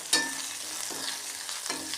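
Mustard seeds frying as a tempering in a pan for sambar give a close, bright crackling sizzle with a few sharp pops, steady for two seconds with no talk.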